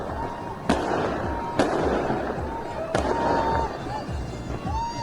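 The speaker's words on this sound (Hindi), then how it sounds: "किस तरह से पटाखे फोड़े जा रहे हैं।" Firecrackers bursting amid Iranian street celebrations: three sharp cracks ring out over a dense, noisy crowd din, with people talking, shouting and whistling throughout.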